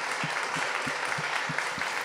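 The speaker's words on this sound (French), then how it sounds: "Mesdames et messieurs, on va vous demander d'applaudir, s'il vous plaît." An audience applauds a singer in a brief, moderately quiet burst of steady clapping, with individual claps faintly audible within the wash.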